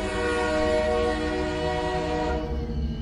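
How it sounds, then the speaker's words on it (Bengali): An approaching train sounds its whistle as a story sound effect, a loud, sustained horn-like tone holding steady for about three seconds, then fading slightly at the end, with no talk. "হঠাৎ শুনি হুইসেলের শব্দ হচ্ছে।"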